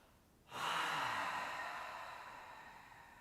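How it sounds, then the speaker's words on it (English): One long, deep exhale through the mouth during a guided relaxation practice, starting abruptly with a strong rush of air, then softening gradually over nearly three seconds, close and alone. "Take a deep, slow breath in. Deep breath out through the mouth."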